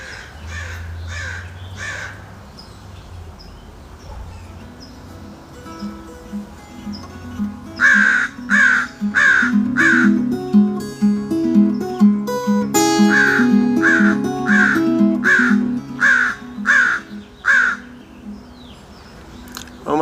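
Crows caw in repeated bursts of several harsh calls, loud and close, alternating with quiet gaps while guitar notes play underneath.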